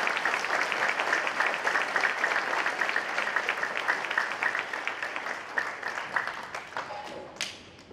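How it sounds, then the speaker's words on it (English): Crowd applause at a school Veterans Day celebration, a sustained wash of many clapping hands that gradually thins toward the end, followed by a brief tap. "Give them a round of applause"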